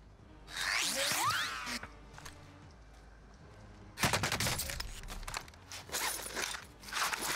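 Gunfire in the video game Call of Duty Warzone: a burst of rapid shots early on, then, after a quieter stretch, dense repeated bursts of automatic fire, loud and close.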